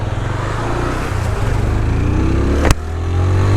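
A vehicle passes on a road during a motorcycle ride, heard as a broad, steady engine and road rumble that builds slightly toward the end with a sharp click midway; no talking.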